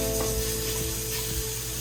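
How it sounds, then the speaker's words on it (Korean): Fatty meat stir-frying over high heat in a pan, a loud continuous sizzle with faint scraping of stirring, close up, no talking. "그리고 센 불에서 이렇게 볶아주세요."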